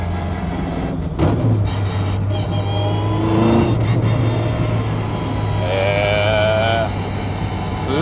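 A vintage Toyota Sports 800 engine drones steadily from inside the cabin while driving, with a constant low hum and a brief rising whine partway through.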